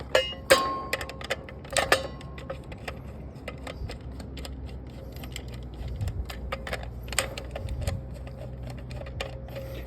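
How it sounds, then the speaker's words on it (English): A flathead screwdriver loosens screws on an AC disconnect during a condenser hookup, giving sharp metallic clicks and scrapes in uneven bursts over a low background hum, close and fairly quiet. "Using my flathead to loosen up all the screws."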